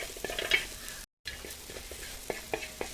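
Turmeric sautéing in oil for chicken mappas, a soft, fairly quiet sizzle with scattered spatula taps and scrapes, briefly cut off partway before resuming, no talk.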